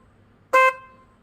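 A repaired car horn, with its adjustable screw loosened slightly, sounds one loud, close honk of about a sixth of a second with a strong tonal buzz, then rings briefly and fades. No one speaks.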